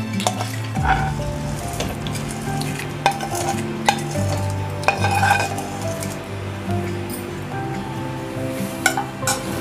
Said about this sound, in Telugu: ఇప్పుడు తాలింపు వేసుకోవాలి.